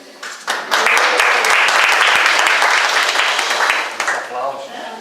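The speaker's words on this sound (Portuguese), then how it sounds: "Aplausos." Audience applause after a spoken talk, a loud burst of clapping that swells quickly, holds steady, then fades, with faint talking underneath toward the end.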